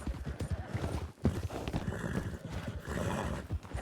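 A horse or mule in the Western video game Red Dead Redemption clip-clops along with steady hoofbeats and lets out a loud whinny, close and continuous in game audio.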